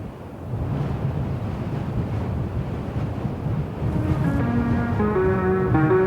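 Strong wind buffets the microphone with a continuous roar near Banff, while a faint engine hum rises near the end.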